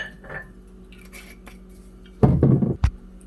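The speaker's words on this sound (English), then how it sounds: "Here's where I'm going to hit it with a 1/2 cup of red wine." Half a cup of red wine poured into a hot pot of beef stew, a brief loud splashing sizzle near the end followed by a short clank, after a quiet stretch of faint kitchen sounds.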